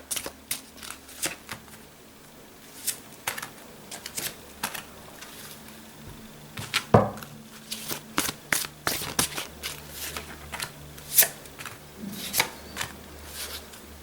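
Oracle cards shuffled and drawn one by one for a twelve-card reading, a run of soft papery riffles and sharp flicks with small slaps as cards land, at a quiet, close level with no talking.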